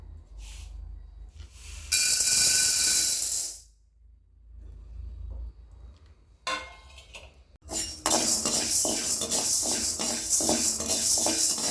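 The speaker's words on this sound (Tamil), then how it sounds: "கடலப்பருப்பே வறுத்துடலாம்" Chana dal (Bengal gram) dry-roasting in a pan gives bursts of bright rattling and hiss, alternating with quieter spells and a steady low rumble underneath.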